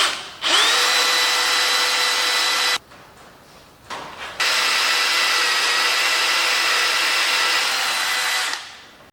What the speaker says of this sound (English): All right, we got it drilled.